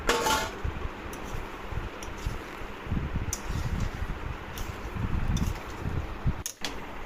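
Potatoes go into a pot of browned mutton, giving close clinks and scrapes of utensils against the pot over a steady cooking hiss, with a few sharp metallic taps. Nobody speaks.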